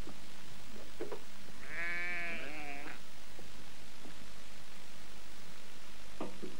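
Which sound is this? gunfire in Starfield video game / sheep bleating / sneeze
sheep bleating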